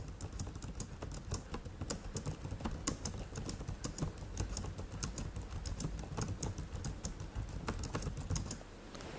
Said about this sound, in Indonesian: Saya akan ngetik ngawur dulu, oke.